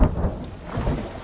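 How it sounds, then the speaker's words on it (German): Heavy thunderstorm with pouring rain in the survival video game The Forest, a loud rolling rumble of thunder over dense steady rainfall, heard alone. "Wenn es regnet, dann regnet es wirklich."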